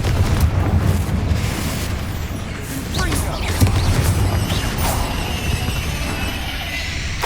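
Confringo blasting spell explosions in the Hogwarts Legacy video game, a loud sustained roar of booms and crashing debris with spell effects, dense and continuous throughout.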